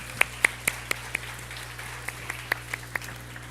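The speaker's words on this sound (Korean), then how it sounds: "다시 한번 하나님께 영광의 박수 드리겠습니다." A small church congregation claps in a sparse, scattered burst of separate claps during a Sunday youth worship service, set against a low steady hum.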